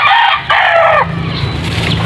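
A rooster crows loudly and close, followed by native chickens clucking against a busy farmyard background.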